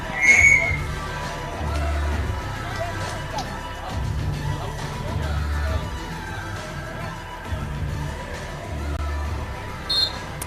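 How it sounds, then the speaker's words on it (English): A referee's whistle blows for a net violation at a beach volleyball match on a stadium court, starting with a short shrill blast over crowd noise, with a brief second chirp near the end. "Net violation whistled"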